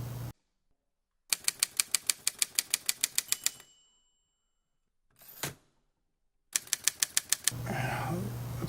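Fast bursts of sharp, evenly spaced keyboard clicks come in two runs separated by silence and a brief soft rustle, with a faint low hum at the start and end.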